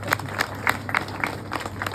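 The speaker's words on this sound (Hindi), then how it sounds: "तालियां बजा दो।" Audience clapping at a spoken religious talk, a steady patter of many hands with a few sharper claps standing out, moderately loud and continuous over the two seconds.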